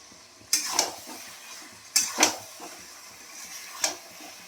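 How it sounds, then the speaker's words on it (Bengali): Chicken pieces are stirred and scraped in a pan of spiced masala, producing a few sharp metallic clanks of a spatula against the pot with soft sizzling between them, close and without talk. "মাংসগুলো দিয়ে আমি ভালো করে আবার একটু কষাবো।"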